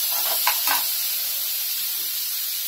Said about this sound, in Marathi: आणि आता ना कांदा बारीक केलेला आहे ना तो टाकून घेऊया।